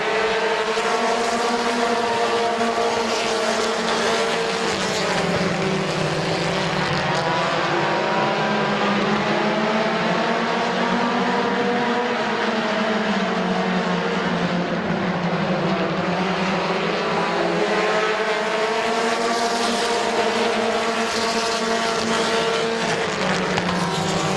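Compact race cars racing at Midvale Speedway in 2017, a pack of engines droning loudly and continuously, with rising and falling pitch as the cars circle the oval, with no talk.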